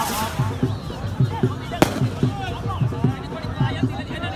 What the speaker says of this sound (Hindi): बेहतरीन आतिशबाजी का इंतजाम